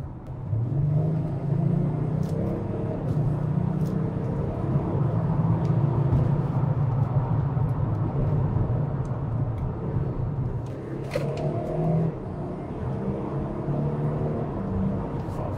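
A remapped Audi S5 diesel with a front-mount intercooler accelerates, with a steady, low engine drone heard from inside the car that rises in pitch, drops at gear changes, and climbs again.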